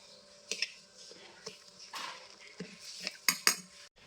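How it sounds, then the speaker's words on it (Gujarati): A spoon stirs dhokla batter made from soaked and ground rice and chana dal in a container, giving soft irregular clinks and scrapes. The sound is quiet and close, with a brief brighter knock near the end. "ચલો હવે આપણે આને હલાવી લઈશું"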